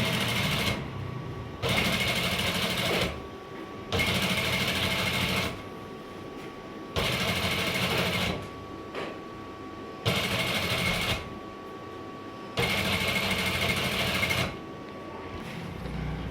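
Sewing machine stitching fabric in alternating bursts: several loud, steady runs of rapid needle chatter a couple of seconds long, each followed by a short quieter pause, with no talking.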